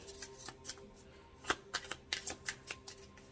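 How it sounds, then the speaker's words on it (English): Tarot cards being shuffled and drawn, heard as soft, close riffling and quick papery flicks in irregular bursts at a quiet level. "Let's pull a few more cards here, Sag."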